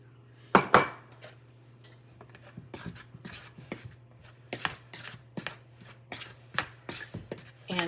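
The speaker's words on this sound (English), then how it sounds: "And then I'm going to use a fork to cut in 3 tablespoons of shortening." A fork cutting shortening into flour and salt for buttermilk biscuits, giving a close series of small metallic scrapes and taps on a bowl, irregular and fairly quiet over a steady low hum.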